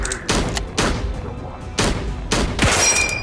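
Rapid bursts of gunfire from the VR shooter Cactus Cowboy Plants at War, four or five loud close volleys separated by short gaps.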